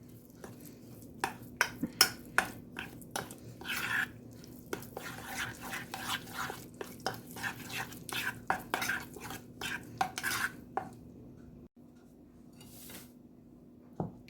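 A spoon clinks and scrapes repeatedly against a bowl in quick, irregular taps while dough ingredients for a poppy seed bun are stirred, close and fairly quiet.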